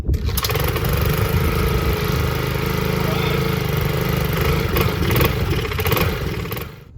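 A Honda GCV160 small engine, its carburetor just replaced, starts and runs loud and steady for about seven seconds, a continuous close-up mower-like drone with clattering texture before it cuts out at the end.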